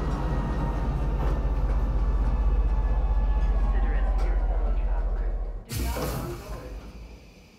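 Steady rumbling drone of a train arriving at TISA Spaceport in the Star Citizen video game, holding loud and even before cutting off into a sharp burst and a fading hiss.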